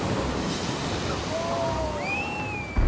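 Large ocean waves break on a beach, giving a broad, continuous roar of surf with wind close to the microphone. Faint whistling tones drift over it, and a louder surge arrives at the end.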